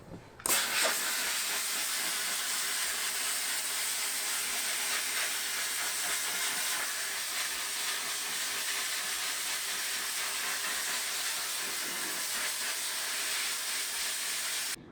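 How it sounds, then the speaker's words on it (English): Vapor blasting on a motorcycle engine part in a blast cabinet produces a continuous, even, loud hiss of wet abrasive spray that holds steady throughout without pauses. "I know you guys see me blasting directly onto this threaded hole right here"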